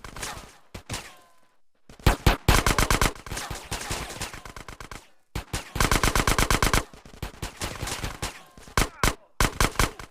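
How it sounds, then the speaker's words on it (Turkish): Gunfire in the video game GTA San Andreas crackles in rapid automatic bursts separated by short pauses, loud and close. "Orada adam Sumok sıkmıyor bana sıkıyor ya"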